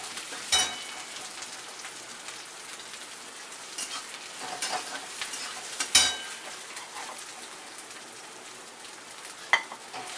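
Pounded green chili sizzling in a pan with potatoes, a steady frying crackle throughout with a few sharp clinks and stirring knocks, moderately loud and close, no speech.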